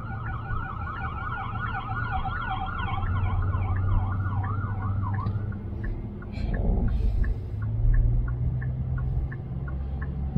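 An ambulance siren wails in fast rising and falling sweeps that fade as the vehicle passes, then gives way to a few short repeated chirps over steady road traffic rumble, with no talk.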